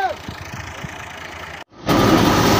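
An Al-Ghazi 2015 model tractor engine drives a thresher, first a low idling rumble under scattered knocks, then after a short dropout a loud, dense, steady roar of the engine and threshing machinery running together.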